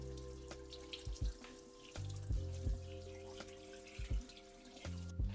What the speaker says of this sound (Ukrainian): Промиваємо ретельно рибу під холодною водою.